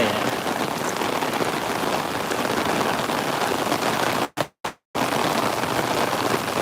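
Rain pours down in a steady, loud, close hiss of drops striking surfaces, broken only by a couple of brief silent gaps near the end.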